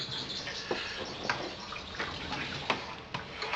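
Water runs steadily into a cold water bath used to chill homebrew wort in its pot after the boil, a soft continuous splashing hiss with faint drips and ticks, quiet and unaccompanied.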